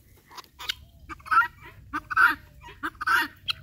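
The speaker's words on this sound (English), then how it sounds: "You're such a nice chicken." A friendly chicken clucks and honks in short repeated bursts, loud and close, among other farm animals, with a quieter low rumble underneath.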